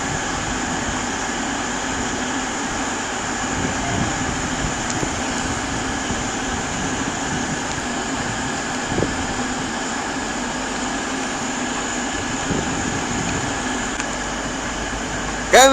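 An East Midlands train, class 57 number 009, pulls out of Derby station with empty coaching stock bound for Sheffield, giving a steady, loud rumble and engine drone that holds evenly throughout with no talk over it.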